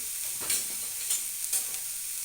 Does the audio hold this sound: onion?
yes